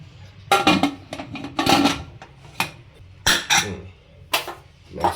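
Metal pot clatter and lid handling as a pressure cooker is closed for bisi bele bath in a home kitchen, a series of sharp close clanks and scrapes in irregular bursts, with no talk.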